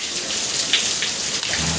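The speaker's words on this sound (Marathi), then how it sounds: "आता पाऊस अजून थांबला नाही बघा" Steady rain falls in a continuous hiss of drops at an even, fairly loud level, with a few brighter splashes and no voices.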